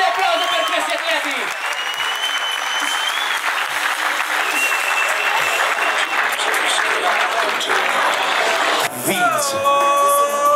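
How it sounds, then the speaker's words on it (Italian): A loud crowd gives a big round of applause for athletes at an International Bodybuilding Cup, dense sustained clapping mixed with whoops and shouts, with a voice cutting in near the end. "Un grande applauso per questi atleti!"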